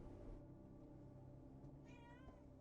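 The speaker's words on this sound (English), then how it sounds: "Goddamn cats." A pet cat named Coconut meows indoors, a wavering mid-pitched call near the end of the clip, heard over the steady hum and background sound of a video game playing.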